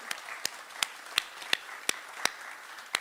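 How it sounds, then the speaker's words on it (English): A single pair of hands clapping in a slow, even rhythm, about eight sharp claps spaced roughly a third of a second apart at an awards event, close and distinct over faint room tone. "we definitely have to applaud him"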